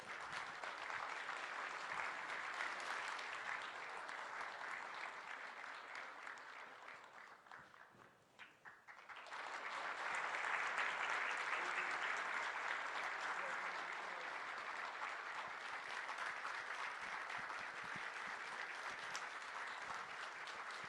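A large audience at a state event honoring leaders of the Turkic states applauds in sustained, dense clapping that dips briefly, then swells back to a loud, continuous ovation.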